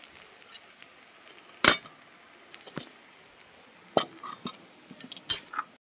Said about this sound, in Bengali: দেখুন, পটলের খোসা বাটা ভাজা ভাজা হয়ে গেছে।